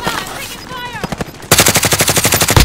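Rapid machine-gun fire from Call of Duty: Modern Warfare gameplay crackles in a fast, loud burst of evenly spaced shots after a brief lead-in of game sounds and a voice.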